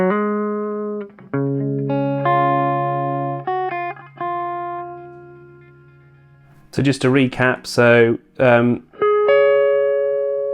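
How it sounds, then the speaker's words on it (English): Sustained, distorted electric guitar chords ring out and hold, with a short stretch of talking in the middle before the guitar returns. "that's the epic held distortion"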